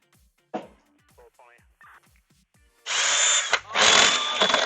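A power drill whirs loudly in two long bursts with a brief pause between, cutting speaker holes in an arcade cabinet, following quieter scraping and handling noises and a short voice.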